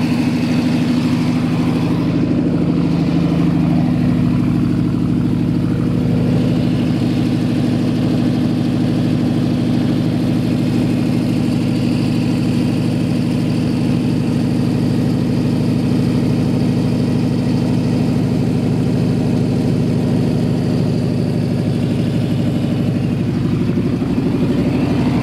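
A freshly built 1923 Ford T Bucket with a 383 engine and automatic gearbox idles cold with the choke on, giving a loud, steady, rumbling drone that holds unchanged throughout.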